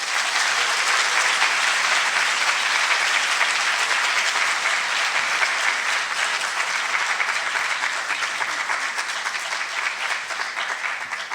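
Sustained audience applause filling a hall as three guests are welcomed onto a stage at a film event, steady and dense clapping for about eleven seconds, fading slightly near the end.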